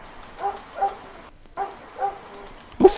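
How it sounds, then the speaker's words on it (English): Neighbor's dogs barking at a distance, four or five separate muffled barks spaced roughly evenly apart, a brief gap of near silence partway through, and a sharper, closer noise at the very end. "that's the neighbor's dogs"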